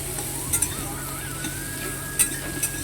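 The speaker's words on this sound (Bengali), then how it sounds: "দেখো টমেটো ভাজা হয়ে গেছে।" Tomatoes frying in a pan for a vegetarian soya chunk curry give a constant soft sizzle, with a few brief scraping stirs of a utensil close by and no talking.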